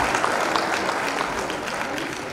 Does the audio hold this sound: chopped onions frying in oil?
no